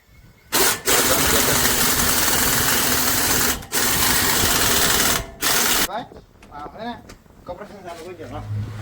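Power tool running in long, loud bursts while axle bolts are fitted during a vehicle repair, cutting off between bursts, followed by someone talking over lighter background noise.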